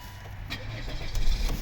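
A 2012 Volvo V50 2.0 D3 diesel with automatic gearbox cranks and fires up close by, its brief engine start swelling near the end of the short clip.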